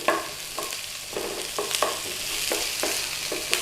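Food softening in a pan for sesame chicken satay noodles, sizzling steadily while a utensil stirs and scrapes in regular strokes about every half second, close up and with no talking.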